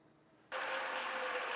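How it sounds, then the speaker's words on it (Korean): United States senators rising to applaud and cheer in the Senate chamber after a confirmation vote: a loud, dense wash of clapping that bursts in suddenly after a quiet moment and holds steady. "미국 상원의원들이 모두 일어나 박수를 치며 환호합니다"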